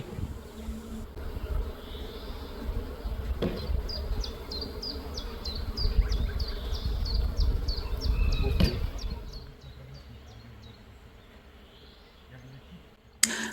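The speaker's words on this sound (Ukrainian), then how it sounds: "Можна почути, як жужжать бджоли та осмі." Bees and wasps buzz steadily among blossoms in a garden, a soft continuous drone with birds chirping faintly in the background.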